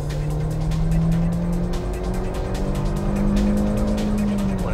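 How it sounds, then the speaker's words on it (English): A Skoda with a 1.8 turbo engine accelerates hard, its loud, steady engine note rising in pitch and held close throughout, with a constant rushing tone underneath. "When the turbo comes in, the car really flies."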